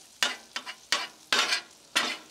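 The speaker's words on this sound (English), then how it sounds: "we're gonna mix that all together, get that all mixed here. Get it all mixed up with your meat and your butter" Meat and butter being stirred together on a Blackstone flat-top griddle, with five sharp scraping and sizzling strokes at an uneven rhythm, close and fairly loud with no talk.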